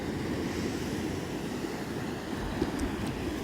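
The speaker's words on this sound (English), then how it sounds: "see the waves pull all the sand off your toes and go back out with the tide" Ocean waves washing onto a beach form a steady, soft rushing wash of surf, faint and continuous, with no voices over it.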